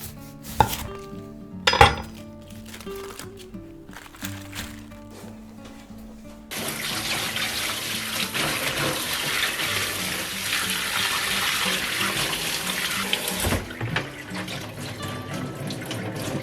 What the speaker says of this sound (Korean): 배추 밑동을 잘라서 한 장씩 따로따로 씻어줄게요